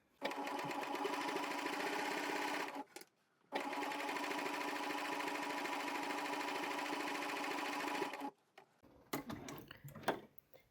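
A coverstitch sewing machine runs in two long steady whirring bursts while hemming fabric, separated by a short pause and followed by quieter handling clicks; nearby and fairly quiet.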